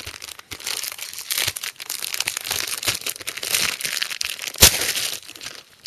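Plastic crinkles and crackles loudly and close up for several seconds, in irregular bursts of rustling with one sharp crunch near the end.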